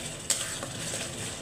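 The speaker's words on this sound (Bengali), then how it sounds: "তরকারি মশলাগুলো কষে নিচ্ছি।" Curry spices sautéing in a pan, a soft sizzle with a sharp spoon scrape near the start and light stirring strokes, fairly quiet.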